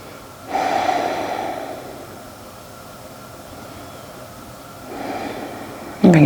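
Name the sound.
breathing during a yoga session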